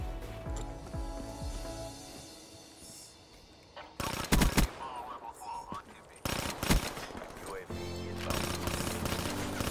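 Gun bursts in Call of Duty: Black Ops 3 break out in two sharp volleys after a quieter stretch, followed by steady firing near the end, with talk in between.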